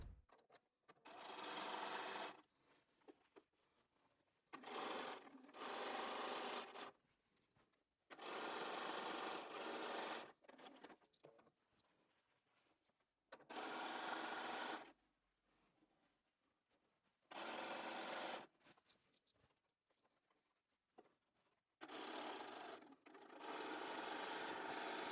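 Sewing machine running over quilt block seams in repeated bursts of a few seconds each, separated by short quiet gaps, fairly close and steady while it runs.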